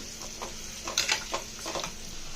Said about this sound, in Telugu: పైన బాగా వేగేలాగా కలుపుకోవాలి ఎగ్స్ని ఈ విధంగా ఆయిల్లో ఫ్రై చేసుకొని